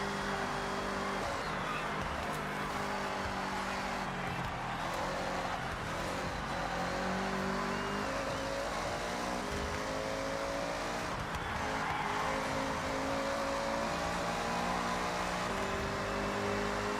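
A car in Forza Horizon 6 slides around with its engine droning and changing pitch, tire squeal and racing noise blended into a constant, fairly distant wash throughout.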